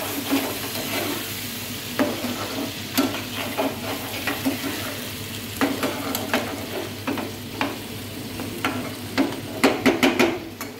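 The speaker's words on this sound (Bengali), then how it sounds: "মশলার সঙ্গে চিকেন একসঙ্গে ফ্রাই করা হচ্ছে।" Chicken fries with spices in a pan over a high flame, a steady loud sizzle running throughout while a spatula scrapes and clacks against the pan in frequent irregular strokes.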